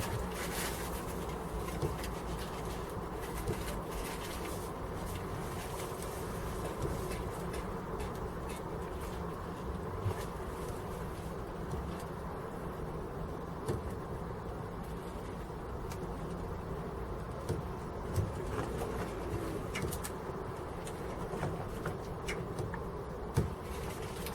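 Bees or wasps buzz faintly around a garden allotment in spring, a thin steady drone beneath outdoor ambience with light clicks and distant birds.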